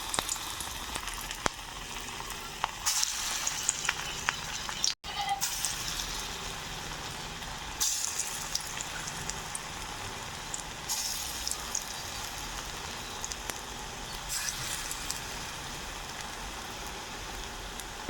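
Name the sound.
lentil fritters (bora) frying in hot oil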